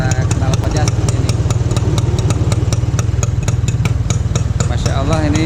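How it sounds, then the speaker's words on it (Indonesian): A two-stroke Bajaj three-wheeler, orange and under restoration, idles at its exhaust with a loud, close, rapid popping burble and steady ticking rhythm, while someone talks over it. "suara knalpotnya seperti ini"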